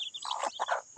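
Small chickens scurrying about on a farm with a vegetable plot, giving a few soft, close clucks and chirps in a short burst.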